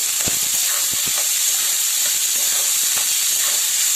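Chopped onion frying in a pan for egg bhurji, a steady bright hiss and sizzle with a few soft scraping knocks near the start, close and continuous.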